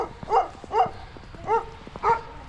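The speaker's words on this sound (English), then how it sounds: "Here's a nice little doggy." A small dog on a snowy street barks four times in short, evenly spaced yelps, at moderate distance with faint outdoor background.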